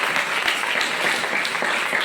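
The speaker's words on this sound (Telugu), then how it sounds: "చప్పట్లు కొట్టండి గట్టిగా" A church congregation at a Christian sermon claps loudly and steadily, a dense, continuous wash of applause filling the whole short stretch.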